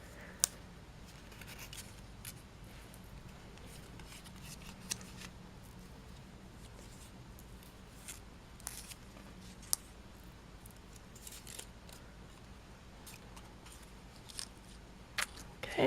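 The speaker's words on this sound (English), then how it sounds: "And I'm first going to fold this banner." Pink cardstock is folded into a banner by hand, making soft paper rustles, creases and occasional sharp ticks scattered over a quiet room background; close and faint, with no talking.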